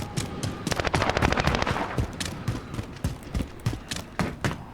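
Call of Duty gunfire rattles in a dense automatic burst, then breaks into scattered single shots, loud and close, with a muffled busy battle background.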